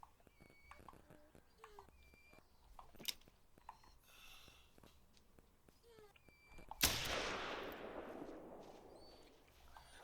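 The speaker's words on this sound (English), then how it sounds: "We have to use a pistol though." A pistol shot fired at a sika deer in the hunting game theHunter: Call of the Wild, a single loud crack followed by a long decaying rumble after several seconds of quiet game ambience and scattered small clicks.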